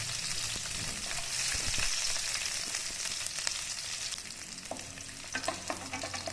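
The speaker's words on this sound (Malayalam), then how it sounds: "ഓയിലൊന്ന് ചൂടായി വന്നതിന് ശേഷം 10 വെളുത്തുള്ളി ചെറുതായി അരിഞ്ഞത് ചേർത്ത് കൊടുക്കാം." Chopped garlic frying in hot oil in a pan makes a loud, dense sizzle, with stirring scrapes and clinks growing more frequent toward the end.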